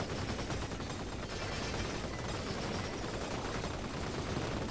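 Dense, continuous gunfire in a hectic round of the video game Vampire Survivors, a steady wash of rapid shots with no pauses, moderately quiet throughout.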